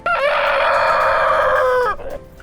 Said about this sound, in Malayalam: പലതരത്തിലുള്ള കോഴികളുടെ ശബ്ദം യൂട്യൂബിൽ സെർച്ച് ചെയ്ത് കഴിഞ്ഞാൽ നിങ്ങൾക്ക് ഇത് കാണാൻ സാധിക്കുന്നതാണ്.